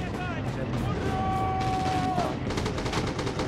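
MG42 machine gun fire in the video game Red Orchestra 2, heard amid a busy battlefield: continuous rapid bursts and overlapping gunfire blend into a loud, steady roar, with voices talking over it throughout.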